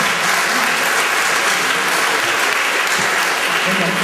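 Loud, continuous applause from a film festival audience at a tribute event, many hands clapping densely and evenly from start to finish.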